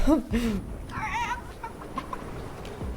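Chicken clucking from the video game Fortnite, a few short bird-like calls over game background noise, moderately loud and close, with no speech over it.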